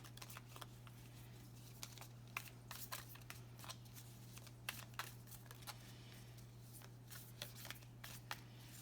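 Crystal cards riffle and snap in a quick, quiet run of crisp flicks and slaps over a steady low hum, with no talking.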